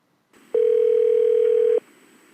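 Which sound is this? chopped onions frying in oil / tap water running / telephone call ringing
telephone call ringing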